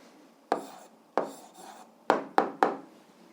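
A pen writes an algebra answer by hand on paper, with several short scratchy strokes, close and distinct, separated by brief pauses and quickening near the end.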